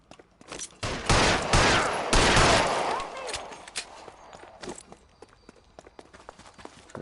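Bursts of video game gunfire in a detective crime game, with several loud rapid volleys up front followed by scattered sharper shots and clatter that gradually thin out.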